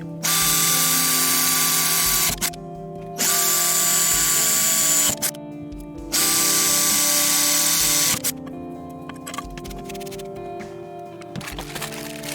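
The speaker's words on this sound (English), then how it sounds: "I'm just drilling some pilot holes" An electric drill whirs in three long bursts drilling small pilot holes for a DIY guitar pedal enclosure, with short pauses between, followed by quieter clicks and handling noises.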